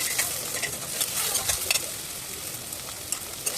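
Masala of onion, tomato, coconut, garlic, ginger and curry leaf stirred and dry-roasted in a pan, with a steady close sizzle and scraping strokes throughout.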